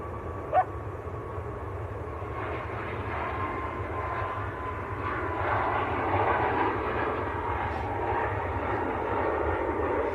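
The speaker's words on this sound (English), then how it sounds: "Ryanair to Cork, this one. This is a Max 8." Ryanair Boeing 737 Max 8 jet, Maltese-registered, at Manchester Airport, a steady broadband roar that swells slightly midway, heard at a distance and continuous throughout.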